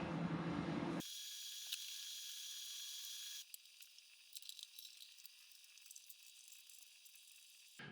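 A speed wrench spins bolts on the engine oil pan of a 1964 Chevy Impala station wagon's 327, giving a rapid, close mechanical ratcheting and whirring that shifts to lighter clicking partway through, with no voices.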